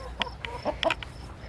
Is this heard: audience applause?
no